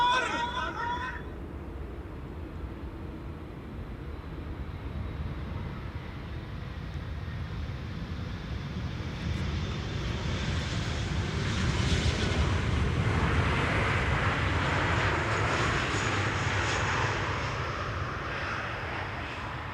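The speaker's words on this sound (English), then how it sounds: "we have a KLM 777 over here that is landing, flight 755" A KLM Boeing 777 landing on the Polderbaan runway at Schiphol Airport: a jet engine roar builds gradually from a distance, swelling loud as it passes, with faint crowd babble in the background.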